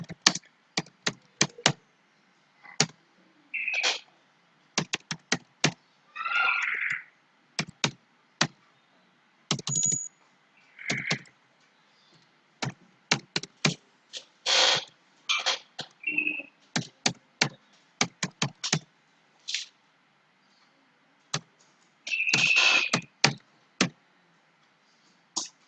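Someone types a table into a Microsoft Excel spreadsheet on a computer keyboard, with close, crisp key clicks in irregular bursts and short runs separated by brief pauses, no voices.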